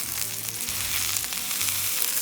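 Steak searing in oil in a hot pan, a steady close hiss and crackle of sizzling fat that stays even throughout, with no voices.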